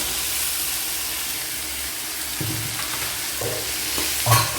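Tomato and capsicum stir-frying in a pan, a steady close sizzle broken by a few scraping stirs of the spatula toward the end, with no talking.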